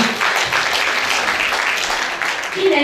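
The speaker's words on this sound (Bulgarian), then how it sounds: "още веднъж аплодисменти за това, че 80 години поддържате българския дух жив" An audience at a concert celebrating the 80th anniversary of the Dobri Chintulov community cultural centre breaks into sustained applause, a dense, loud roar of clapping with a faint voice surfacing near the end.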